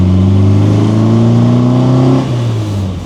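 A 1974 MGB classic British sports car drives past loud and close, its mid-pitched engine droning steadily before the note drops and eases off near the end.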